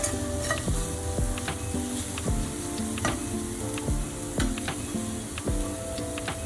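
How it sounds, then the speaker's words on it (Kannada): Paneer bhurji frying with chili and salt, a constant close sizzle with frequent metallic clinks and scrapes of a spoon against the pan in uneven rhythm. "ಇದನ್ನು ಮತ್ತೆ 30 ಸೆಕೆಂಡ್ ಫ್ರೈ ಮಾಡಬೇಕು ಚೆನ್ನಾಗಿ, ಖಾರ ಉಪ್ಪು ಎಲ್ಲ ಹೀರ್ಕೊಳ್ಳೋ ತನಕ"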